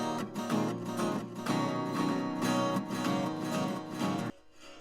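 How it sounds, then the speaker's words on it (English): Acoustic guitar strummed through a plain delay effect, the chords ringing on with soft repeating echoes for several seconds before cutting off abruptly near the end. "So if we just put the normal delay on it, it would sound a bit like this."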